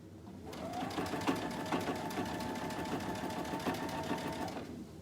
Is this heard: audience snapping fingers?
no